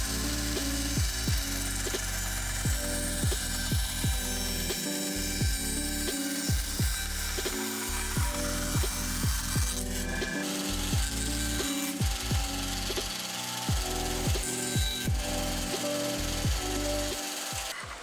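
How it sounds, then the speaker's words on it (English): A bandsaw cuts two wooden blocks sized to lock a foldable puzzle mat to a Lazy Susan. Short, repeated cutting passes break up a steady machine hum, each ending in a brief pause, loud and close with no speech. "Over at the bandsaw, I cut out the two blocks that will lock the mat to the Lazy Susan."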